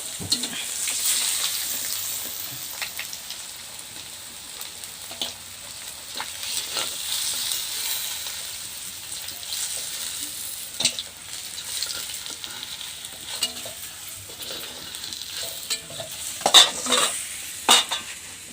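Pieces of rohu fish fry in hot oil for a curry, a steady soft sizzle with occasional spatters and brief stirring or utensil scrapes, close and continuous with no voices.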